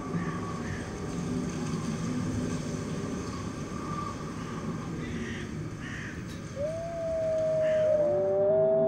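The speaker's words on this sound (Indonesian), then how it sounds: "Tiada haiwan yang tidak gentar mendengar korus seruan dari sekumpulan serigala." Wolves from a pack in the snowy Bulgarian wilderness howl, with long rising and falling tones entering late over a steady low rumble and building into overlapping voices.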